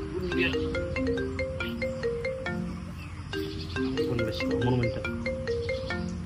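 A mobile phone rings with a bright, repeating melodic ringtone that plays steadily and fairly loudly for several seconds, with no talk over it.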